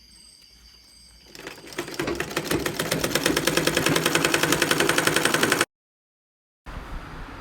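Sewing machine stitching a strap onto a custom gown runs in a steady rapid rhythmic chatter for several seconds, near and fairly loud, then cuts out briefly before starting again.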